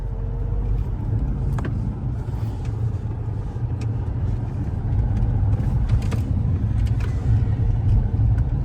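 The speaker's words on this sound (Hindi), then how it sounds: "अब गाड़ी जा रही है टर्बो की आवाज करती हुई।" A Mahindra XUV500 drives along with a continuous, low engine and road rumble, steady and close throughout, with faint higher turbo whine and occasional light clicks on top.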